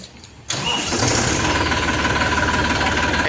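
An Eicher 450 tractor engine, a 44-horsepower double-clutch model, cranks and fires after a short pause, then settles into a loud, steady, close diesel chugging.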